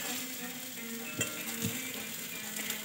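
Potato curry cooking in a pan for breakfast sizzles quietly and steadily, with a couple of soft clinks of a utensil against the pan over the frying hiss.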